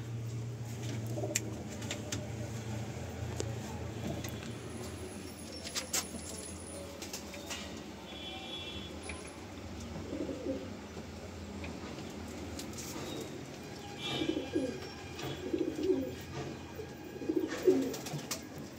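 Andhra pigeons in a breeding loft coo in soft, low, throaty rolls over a steady background hum, with occasional wing flutters and the cooing growing busier toward the end.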